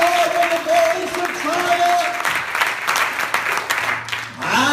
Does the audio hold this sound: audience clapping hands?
yes